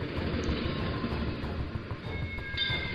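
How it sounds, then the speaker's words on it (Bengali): A train rumbles close by beneath an overbridge, a dense, steady low roar of wheels and carriages that fills the whole stretch without easing. "ট্রেনের শব্দে কান পাতা যায় না।"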